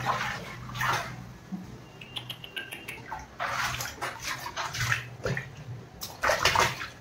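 Rushing, splashing water flooding a house during heavy monsoon rain in Delhi, a steady noisy wash with sloshes and drips, some scattered bursts louder and closer.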